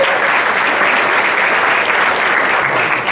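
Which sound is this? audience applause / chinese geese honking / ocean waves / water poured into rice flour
audience applause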